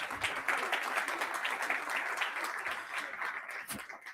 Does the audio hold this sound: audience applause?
yes